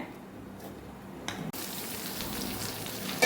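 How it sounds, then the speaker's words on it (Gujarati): Green chillies cooking with added water in a covered pan give a steady, dense sizzle and bubbling hiss. It starts fairly quiet and grows fuller and louder about halfway through, with nobody talking. "પાણી ઉમેરીને ઢાંકણ ઢાંકીને આપણે બે મિનિટ આપણે બે મિનિટ આને પકાવવાનું છે"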